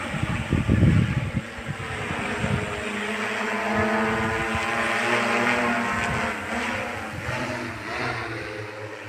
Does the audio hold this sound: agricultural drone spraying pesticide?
yes